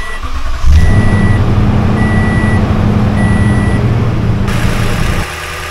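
A 2015 Toyota Tundra engine cranks and catches, then runs at a steady loud idle close by for several seconds before cutting off, with a faint repeating beep over it.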